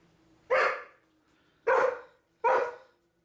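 A dog barks three times indoors, close and loud, with short pauses between each bark and near silence in between.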